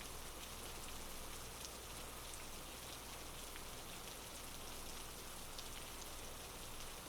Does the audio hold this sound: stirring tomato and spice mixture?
no